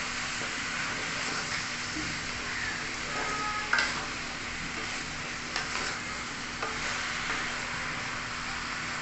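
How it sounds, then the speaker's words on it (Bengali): Ginger-garlic paste and salt frying over a high gas flame in a pan while being stirred, a steady sizzle with a few sharp clinks and scrapes of the spoon against the pan. "আদা রসুনটা দিয়ে দিলাম আর লবণ দিয়ে দিলাম, দিয়ে নাড়াচাড়া করব। একটু মশলাটাকে ভালো করে কষিয়ে নেব।"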